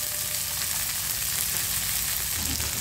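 Green chillies fry in hot oil for a bharta, giving a steady close sizzle that crackles continuously, with a faint stirring shift near the end.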